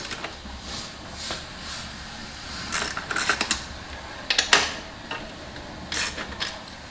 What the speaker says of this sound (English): Removal are just these two 14 millimeter acorn nuts.